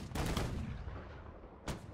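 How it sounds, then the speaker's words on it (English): A full broadside of ship cannons fires in the Holdfast: Nations at War naval battle, a loud booming volley that rolls on for over a second, with another sharp cannon blast near the end. "Full broadside, fire!"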